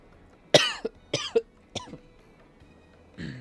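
Several sharp, harsh coughs in quick succession, close and fairly loud, followed by a softer throaty sound at the end.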